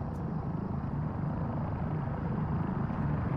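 An ambulance helicopter passes over in Arma 3, a steady low, heavy rotor and engine rumble that stays loud and constant with no talk over it.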